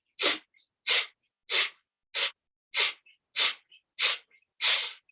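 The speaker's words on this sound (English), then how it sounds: "we do a forceful breath through the nasal passage where we're pulsing from the abdomen" Eight sharp, forceful exhales through the nose in a steady rhythm, each a short puff of air with quiet gaps between.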